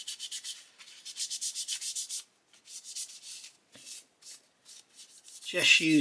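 A tissue rubs an oil pin wash off a painted hobby miniature, making quick, dry, gritty scratching strokes in rhythmic bursts with short pauses. The sound is close and faint, and a voice starts briefly at the very end.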